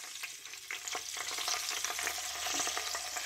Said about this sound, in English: put the tomatoes in the oil